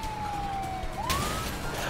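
A police car siren from the video game A Way Out, a single smooth wailing tone that glides down and then rises again, heard fairly clearly against a steady background of game noise.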